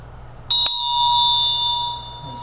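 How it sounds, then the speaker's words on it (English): A meditation chime rings once, struck sharply and then left to hang in a long, clear, sustained tone that slowly fades into near silence. "You're going to hear the chime, and then 30 seconds will go by"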